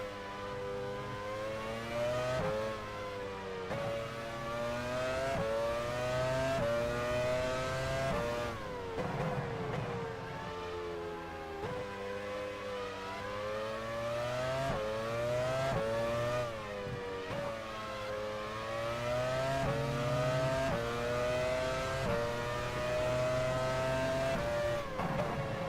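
Formula 1 race car engines from the 1999 Belgian Grand Prix in F1 Challenge 99-02, a loud continuous high-revving whine rising and dropping with repeated gear shifts and braking, sustained throughout with no speech.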